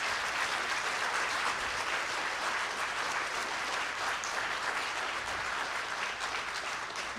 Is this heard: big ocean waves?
no